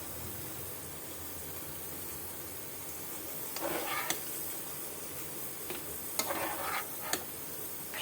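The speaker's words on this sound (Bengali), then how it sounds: "এইবার আমি ভাজা বেগুনগুলো দিয়ে দেবো এর মধ্যে।" Fried brinjal is stirred into spiced curd in a pan, giving a low continuous sizzle with a few sharp scraping and stirring bursts partway through.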